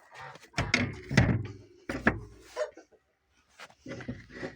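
A swollen door with a metal frame and a wooden interior is forced open, giving a few heavy knocking thumps and scraping bumps at close range, with short pauses between the jolts.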